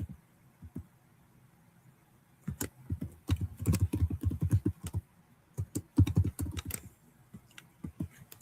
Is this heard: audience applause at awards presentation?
no